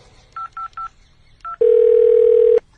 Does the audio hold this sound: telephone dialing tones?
yes